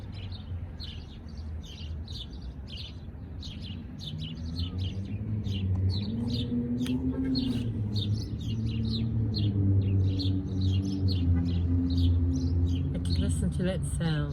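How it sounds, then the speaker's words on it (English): Small birds chirp outdoors on a spring day in Fort McMurray, Alberta, a steady busy chorus of quick high tweets throughout, with a low rumbling background hum underneath. "And it's so nice just to hear the birds chirping away."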